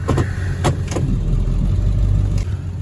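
A Ford Excursion 7.3 4x4 truck pulls off, its engine a steady low rumble with a slight rise in revs as it gets moving, heard from close by with no talking.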